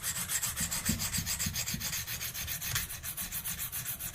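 A single bevel broadhead is drawn across an extra coarse KME sharpening stone in steady, evenly spaced rasping strokes, close and fairly quiet, with no talk.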